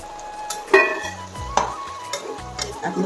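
Half-fried fish slid into a pan of greens for an Assamese fish curry, giving soft stirring and scraping clatter with a light sizzle, a few clinks of a utensil against the pan, and a low background hum.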